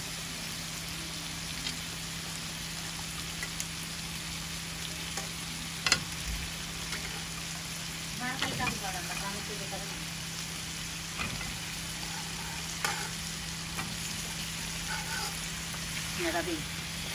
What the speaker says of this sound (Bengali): লাড়া দাও।